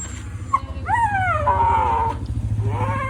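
A dog with a mild spine injury whimpers close by in drawn-out, rising and falling whines, over a low rumbling hum.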